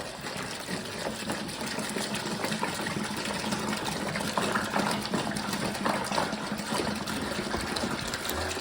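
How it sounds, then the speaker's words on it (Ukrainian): Water pours in a steady, even gush over spices for a homemade honey fruit liqueur, a continuous close rush of liquid with no voices. "Тепер ми заливаємо ті спеції водою і додаємо туди мед."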